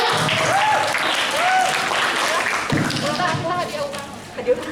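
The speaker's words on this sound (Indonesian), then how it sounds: "tepuk tangan untuk temannya" Audience applause at a seminar on preparing to enter the workplace, a broad steady patter of clapping lasting several seconds and tapering near the end, with voices mixed in.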